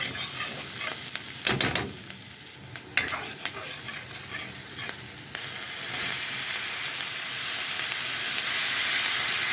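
Crispy broccoli stir-fried over high heat in a pan with onions, giving loud sizzling and hissing, with scraping and tossing bursts early on, then a steady rising hiss.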